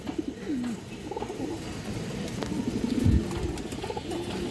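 A pair of black-necked pigeons for sale coo nearby with soft, repeated throaty calls over a busy market-like background murmur.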